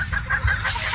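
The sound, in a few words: chicken clucking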